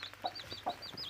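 A mother hen clucks softly and close by in short low bursts, while her chicks cheep in high, thin peeps all around her.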